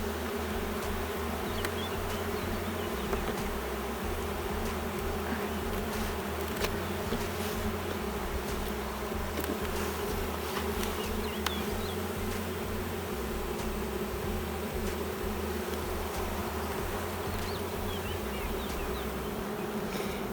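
Honeybees in a sparsely populated hive still holding honey give off a steady, dense buzzing drone that continues evenly throughout, close and moderately loud, with no talking.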